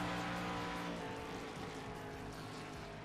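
Race cars lapping a 2.5-mile oval in a racing video game give a continuous droning engine roar with a shifting pitch, steady and fairly loud throughout with no talk.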